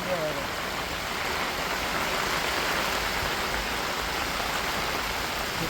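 Heavy rain pours in a steady, dense roar with gusting wind during a cyclone-like storm over fields and swaying trees, a continuous broadband wash that stays loud and even throughout.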